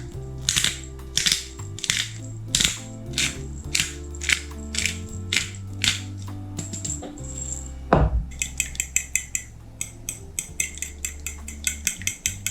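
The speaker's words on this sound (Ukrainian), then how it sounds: "Перемішаю яйця." Eggs with salt and black pepper are beaten in a bowl, a steady run of close, rhythmic clinking strokes that speeds into quicker, brighter tapping partway through, with soft background music underneath.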